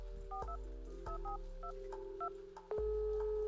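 A phone number dialed in the horror game The Inn-Sanity: a quick series of electronic keypad tones over a steady hum, ending in a sustained dial tone, faint and with no voices.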